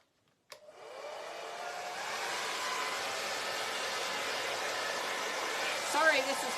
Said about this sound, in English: now I'm going to use a blow dryer on a cool setting